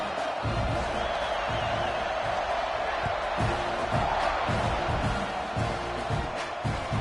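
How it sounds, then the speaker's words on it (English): Stadium crowd in EA College Football 26 buzzing after a score, a steady loud roar of many voices filling the whole stretch with rhythmic low thumps beneath. "this crowd is buzzing after that last score."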